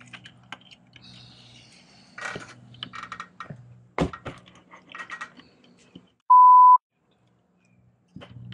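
An RV keypad door lock gives a single clear electronic beep, close and loud, after a stretch of light clicks and handling noises.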